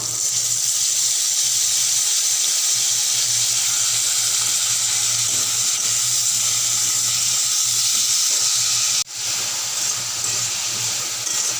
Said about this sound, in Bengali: হলুদ আদা আর জিরে বাটাটা দিয়ে দেব